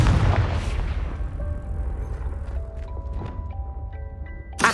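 A Confringo explosive spell in Hogwarts Legacy lands as one loud, deep boom at the start, then rumbles away under thin chiming game tones.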